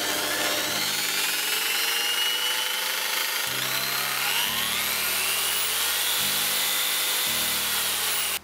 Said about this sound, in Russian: подключил лобзик к сети, установил регулятор оборотов на единичку